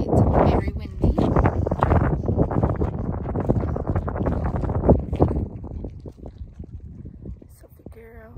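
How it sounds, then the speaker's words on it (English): Strong wind at an RV campsite in Florence, Arizona batters the microphone in a loud, steady roar. Gusts swell and ease over several seconds, and the noise partly masks a voice speaking underneath. "It's a nice day. It's very windy."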